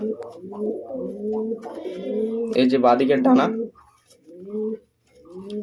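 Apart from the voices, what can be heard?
pigeons cooing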